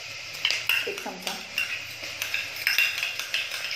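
A metal spoon scrapes and clinks against a pan as ginger-garlic paste is stirred in hot tempering oil for mutton rassa, the sharp scraping strokes repeating quickly under a faint sizzle, with someone speaking briefly.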